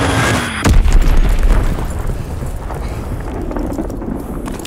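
An Azon guided bomb detonates in Call of Duty: WWII Gridiron mode, a loud close blast that bursts out, then trails into a long rumbling, wind-like decay with no talk.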